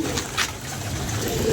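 Pigeons coo softly in a loft, low throaty calls with brief chirps above a steady background hiss, fairly close.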